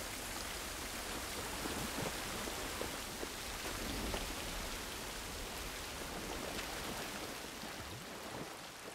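Steady rain in The Last of Us Part 1, a soft, even hiss of falling drops with faint patters, continuous and fairly quiet with no voices.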